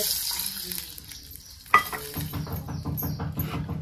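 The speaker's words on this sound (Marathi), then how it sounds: "हे जे 1 वाटी ताक घेतले ते आता ओतून घेतले मी" Buttermilk is poured into hot oil with turmeric for kadhi, giving a sudden sharp splash and then a bubbling sizzle that continues with pulsing stirring noises. No one speaks.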